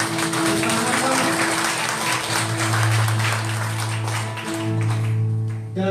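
A church congregation applauds together in a steady, sustained wave of clapping that lasts throughout, with a held instrumental tone and some voices underneath.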